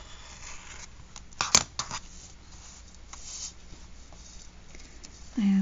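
A fabric cutter with a dull blade slicing through printed fabric, producing short close scraping and snipping strokes around a louder burst, with a low voice briefly present.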